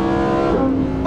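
A Lamborghini Huracán 610-4 accelerates hard away during a roll race, its engine a loud, sustained roar. The pitch shifts midway through the burst, which lasts about a second.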